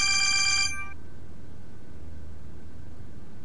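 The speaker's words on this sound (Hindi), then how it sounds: "ले फिर आ गया नादिया का फोन" A telephone bell rings once in a TV drama scene, a loud, bright trill lasting under a second that then cuts off into quiet room tone.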